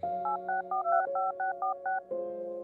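Touch-tone telephone dialing in a detective audio drama: a quick run of about eight DTMF beeps in steady rhythm over a faint low background hum, ending in a steady tone.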